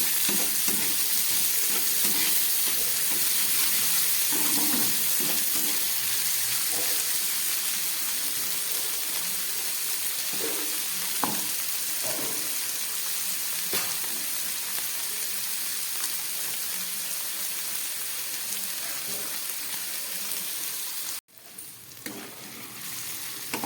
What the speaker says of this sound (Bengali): আলু, পেঁয়াজ, টমেটোটাকে আমি খুব ভালো করে ভেজে নেব।